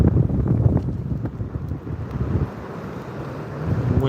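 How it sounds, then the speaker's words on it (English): Wind gusting across a Florida beach, heavy rumbling buffeting on the microphone with faint surf beneath, steady and loud throughout without speech. "The wind's picking up a little bit."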